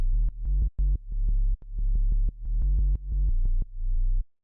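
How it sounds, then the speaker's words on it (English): A deep, clean sine-wave sub bass made in Serum plays a rhythmic pattern of short and sustained notes with clicks at each onset, ending abruptly. "So then the last layer we have here is the sub bass"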